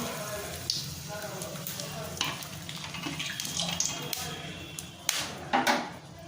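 Bay leaf split down the middle and a halved dried red chili sizzling in hot oil for a spicy chicken curry, a steady crackling hiss with a few sharper pops near the end.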